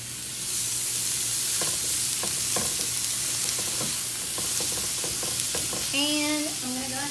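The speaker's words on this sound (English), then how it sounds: "I'm going to go ahead and put my peppers and onion into the pan." Peppers and onion sizzle steadily in a frying pan with a bright hiss, while occasional scraping stirs break through near the start and a few clinks sound at the end; no one speaks.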